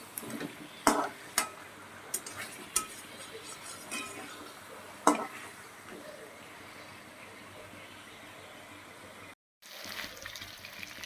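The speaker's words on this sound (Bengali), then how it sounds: "তো আলু আর মাছের মাথা দিয়েও আমি বেশ কিছুক্ষণ কষিয়ে নেব।" Katla fish head and fried potatoes are stir-fried in a pan, with a soft sizzle under sharp spatula clinks and scrapes at irregular intervals, near but fairly quiet, briefly dropping out near the end.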